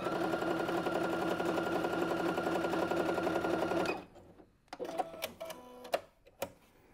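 A Necchi NC-204D sewing machine stitches a seam in a fast, even mechanical whir for about four seconds, then stops, followed by scattered clicks and small handling noises.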